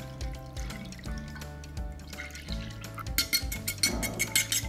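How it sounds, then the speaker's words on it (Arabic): Milk is poured from a cup onto eggs seasoned with salt and black pepper, a close trickling pour that turns into brighter splashing as the liquid builds up. "نص كوبايه لبن، كوبايه لبن على البيض"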